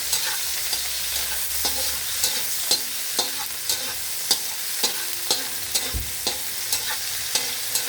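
A dinner viand being stir-fried in a pan: close, steady sizzling frying with a rhythmic series of sharp spatula scrapes and clacks against the pan, no voices.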